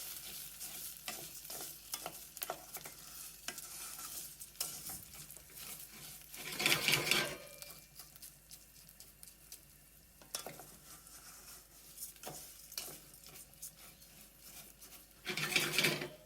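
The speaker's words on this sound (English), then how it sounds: "In with our rice to get it nice and toasty. And just give that a minute or so until all of that rice is nicely coated in the oil and hot." Rice toasts in hot oil while being stirred for Caribbean rice and peas, a soft continuous sizzle broken by scraping spoon strokes and occasional louder bursts of stirring, close but fairly quiet.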